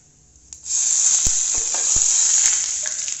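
Whole cumin, asafoetida, a whole red chili and curry leaves hit hot oil for a tempering with the gas flame switched off, bursting into a loud, steady sizzle after a brief quiet start, with a few sharp pops and crackles.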